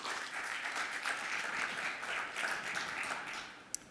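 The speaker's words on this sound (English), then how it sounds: "can I get a really massive round of applause for Tim?" Audience applause for the presenter Tim Peel at a security conference talk, a dense, steady wash of many hands clapping from a large crowd that fades slightly near the end.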